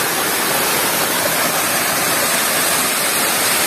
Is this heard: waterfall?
yes